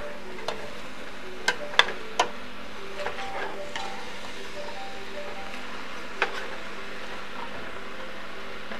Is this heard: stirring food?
yes